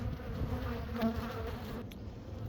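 Honey bees hum around a weakened colony at the hive in autumn, a soft, continuous buzzing drone with no voices over it.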